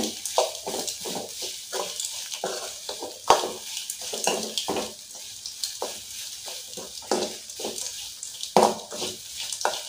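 Grated coconut fries in a pan for aval kozhukattai, a close sizzle broken by repeated scraping strokes of a spatula in an uneven rhythm, with a louder knock now and then.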